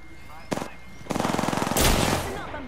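Gunfire in the video game Apex Legends comes as an isolated shot, then a rapid, steady automatic burst and a louder blast. Game sound effects fill the background.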